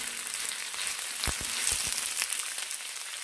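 Chicken stir-fries with wilted green beans in a pan, a steady close sizzle with a few soft knocks of stirring in the middle.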